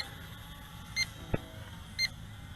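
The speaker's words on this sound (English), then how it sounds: "now there's a continuous beep telling you that the battery is on the low." A Dynalog DR DF100B mini foldable drone sounds its low-battery warning, thin high beeps repeating about once a second, with a brief soft knock between them against a faint hum.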